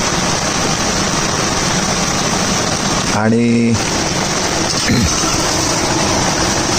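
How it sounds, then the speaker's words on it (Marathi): Heavy rain falls steadily outside near the Sadashivgad waterfall, a dense continuous hiss that runs throughout, with a brief voice and a passing engine-like tone cutting in midway. "बाहेर मस्त पाऊस पडतोय,"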